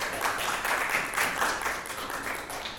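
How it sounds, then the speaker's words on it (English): An audience at an activism talk applauds steadily for a few seconds, a soft, even wash of clapping heard from some distance. "Let's do a round of applause."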